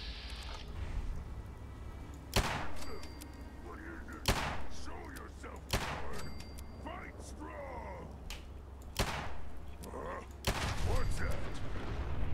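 Explosion from a bomb set off in the game Fallout 4, with several sharp, loud broadband blasts and thuds spread through the scene over a busy game soundscape, with a voice talking in the background.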